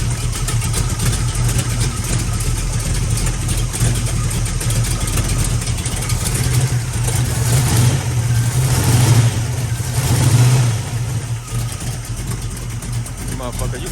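A car engine with a big cam runs loud and close while in gear with the differential lifted, holding a rough, lumpy drone that rises in two surges of revving before settling back.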